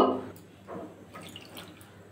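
Water being added to a pot of sugar for syrup, about 300 grams or one and a half bowls: a short splash at the start, then faint, scattered drips and trickles.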